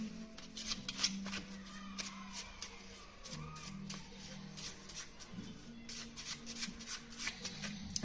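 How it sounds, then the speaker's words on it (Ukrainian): A deck of playing cards is shuffled by hand in repeated riffles and flutters, close and fairly quiet against a low background hum, with no speech. "Беремо колоду карт."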